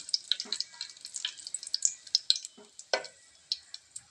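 Vegetables stirred in a pan for veg pulao with bay leaf, cinnamon and cloves, giving a soft intermittent sizzle broken by spoon scrapes and clinks, close and fairly quiet with no talk.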